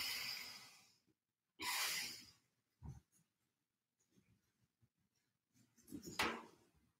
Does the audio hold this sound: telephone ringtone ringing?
no